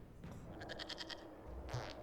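A goat in the video game Dragon Age Inquisition bleats in a rapid, wavering series over faint background ambience, then gives a shorter second bleat.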